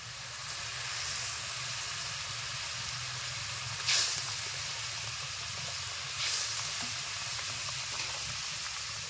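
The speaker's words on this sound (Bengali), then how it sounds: "ঝোল ফুটতে শুরু করে দিয়েছে, ভেজে রাখা ডিমগুলো দিয়ে দেবো।" Gravy bubbling in a pan with fried eggs added, a steady close simmering hiss and sizzle with two brief louder splashing bursts as pieces drop in.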